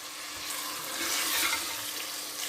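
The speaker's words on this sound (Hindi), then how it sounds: "ये फ्राई हो चुकी हैं छिलके। अब इन्हें कीमे में शामिल करते हैं।" Fried bitter gourd peels stirred into chicken mince frying in a pan, producing a steady, moderately loud sizzling hiss that swells slightly midway, with no speech.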